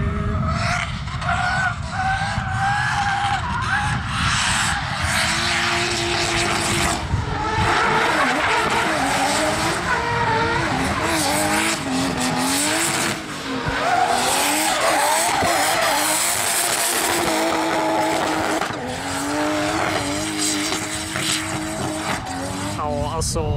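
Nissan S13 drift car skidding at a drift event, a roaring engine with long tire squeals rising and falling across the run, loud and sustained, with people talking over it.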